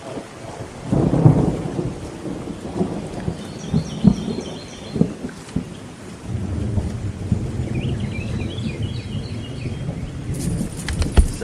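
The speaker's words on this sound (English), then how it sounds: "I hear thunder." Thunder rumbles through a steady rainstorm outdoors, low booming rolls rising and fading over the hiss of falling rain, with faint bird calls in the background.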